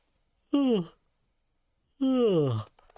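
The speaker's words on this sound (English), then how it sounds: "So besides oification, I already mentioned one technique, and that is to yawn." Two drawn-out voiced yawn-like sighs, demonstrated as a voice-training technique, each falling in pitch and lasting about half a second, separated by a brief silence and heard alone and close.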